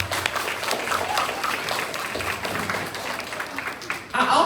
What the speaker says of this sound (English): give all of the presenters and all of the people who've spoken to your life today a round of